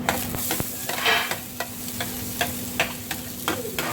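Vegetables and minced garlic stir-frying in a pan for Korean vegetable fried rice, with a steady sizzle broken by repeated scraping strokes of a utensil, close and fairly loud, no voices.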